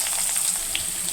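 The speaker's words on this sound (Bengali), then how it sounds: "আলুগুলোকে ভেজে নেব।" Potatoes frying in hot oil in a kadai with dry red chilli and cumin, a steady close hiss of sizzling with no talk, brief and even throughout.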